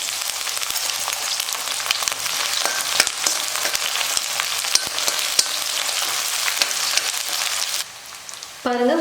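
Small shallots and curry leaves sizzle in hot oil in a pan for a tamarind kuzhambu, a loud, steady crackling hiss that carries on with scattered pops and ends abruptly.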